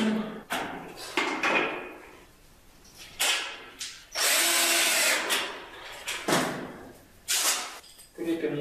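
Power drill driving self-tapping metal screws into a metal profile while boxing in pipes in a combined bathroom, with several loud whirring bursts of a few seconds each separated by pauses and handling clatter.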